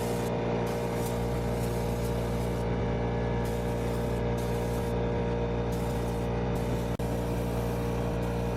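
A spray gun lays a second coat of paint on the body of a Nissan 240SX being refinished, a steady close hiss running continuously with faint compressor hum beneath and pulsing bursts of higher hiss.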